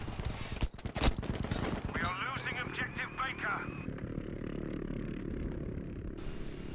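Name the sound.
MG34 machine gun firing in the video game Battlefield V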